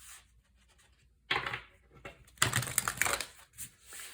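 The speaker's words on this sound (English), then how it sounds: "Let's do some shuffling." Quick riffling and papery shuffling of a small tarot deck in bursts, close by, with short pauses between and no talking.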